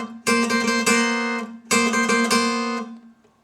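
Guitar plays a four-note double-stop intro figure for a song, two ringing phrases of struck chords that sustain and then decay cleanly.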